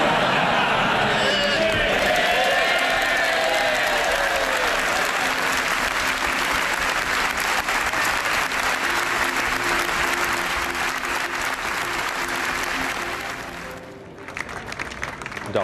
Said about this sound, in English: And after that standing ovation on his own benches